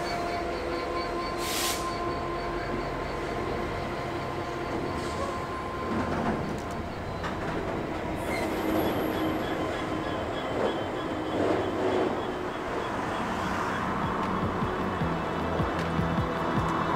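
A Railhead Treatment Train rumbles past at Woodlesford on the line into Leeds, a steady heavy rail roar with clattering wheels and occasional higher squeals, holding loud and continuous throughout under a dark, rainy evening sky.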